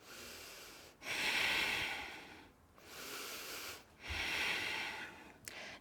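Slow, deep breaths through the nose while holding a yoga plank pose, three long airy inhales and exhales, close and fairly quiet, with a brief pause between each and no talk.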